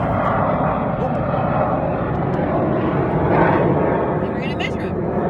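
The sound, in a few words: airplane flying overhead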